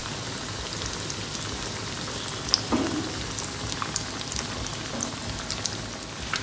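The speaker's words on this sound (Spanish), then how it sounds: "Aquí tengo un sartén a fuego medio con suficiente aceite y cuando esté bien caliente, vamos a comenzar a poner todas nuestras tortitas" Potato cheese patties frying in hot oil in a pan over medium heat, giving a steady, dense crackling sizzle throughout with a few small pops, no talking.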